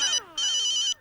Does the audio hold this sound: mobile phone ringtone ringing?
yes